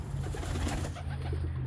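Pigeons in a coop holding around sixty birds, bred and flown as a fly kit, give off soft, low, continuous cooing that stays close and steady throughout.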